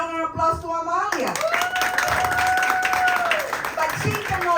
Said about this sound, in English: a round of applause to Amalia